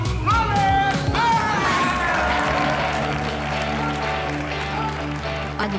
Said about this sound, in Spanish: Quiero un fuerte, pero muy fuerte aplauso para...